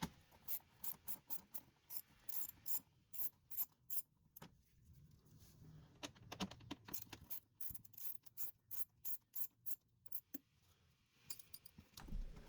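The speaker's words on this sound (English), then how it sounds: "this Torx bit socket works with the 1/4 inch drive ratchet" A 1/4 inch drive ratchet turning a T20 Torx bit socket while fasteners come out of a 2013 Nissan Versa wheel well, heard as rapid bursts of close, crisp clicking with short pauses between strokes.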